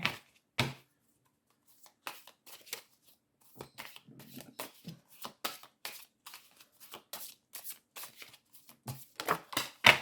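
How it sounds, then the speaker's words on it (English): Tarot cards are shuffled by hand in irregular bursts of crisp riffling and slapping, close and quiet, with short pauses between clusters. "And one more shuffle."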